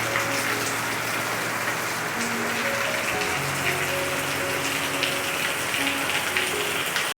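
Rain falls steadily outside a hostel, a dense even hiss of drops on surfaces with faint background tones running underneath for the whole stretch.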